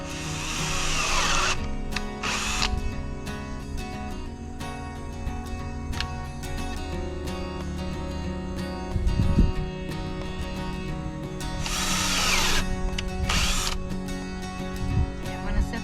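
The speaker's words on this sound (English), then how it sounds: "I'm going to set this down to drill the holes in it" A power drill whines in sustained bursts, with short high-pitched spurts of drilling between longer stretches of motor hum.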